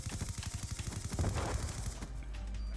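Rapid automatic gunfire from a Call of Duty Black Ops 2 Search and Destroy match, a steady stream of loud close shots for about two seconds before trailing off into lower game noise, with no talking.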